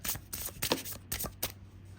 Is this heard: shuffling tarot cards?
yes